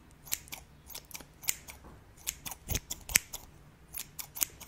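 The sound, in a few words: scissors cutting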